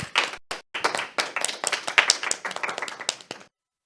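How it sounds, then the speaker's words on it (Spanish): Clapping in a studio from a small group or few people, sharp and close with a short pause at the start, then rapid uneven claps that stop cleanly after about three and a half seconds. "dándole un fuerte aplauso"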